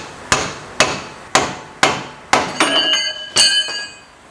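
A hammer strikes a rusty passenger-side idler arm on a high-mileage Chevy Avalanche, with five sharp metallic blows at a steady pace followed by a couple of ringing clanks, close and loud with no talk.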